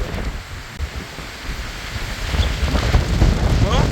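Steady gusts of wind rush and buffet the microphone, growing louder toward the end, with no voices.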